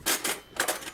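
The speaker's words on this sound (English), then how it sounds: "There's cutlery hi-hats," Two bursts of bright metallic jangling, like cutlery struck as a hi-hat, one near the start and one just past halfway, close and moderately loud.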